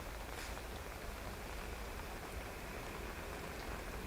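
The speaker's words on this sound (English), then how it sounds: "I've no doubt you can hear the rain hitting the umbrella" Heavy rain pours steadily onto an umbrella at Dublin Airport: a dense, even hiss of drumming drops with no breaks and no voices.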